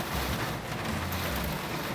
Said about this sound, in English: The storm is wailing away out there.